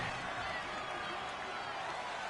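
Steady roar of a stadium crowd in a football video game, a dense, even wash of noise throughout with no distinct individual sounds standing out.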